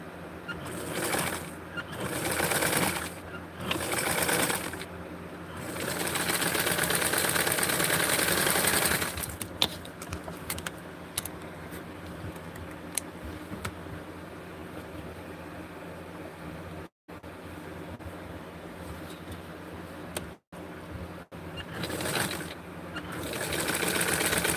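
A sewing machine stitches a double-sewn hem in repeated bursts: a steady mechanical whir lasting several seconds at a time, broken by short pauses, close and moderately quiet with no talking.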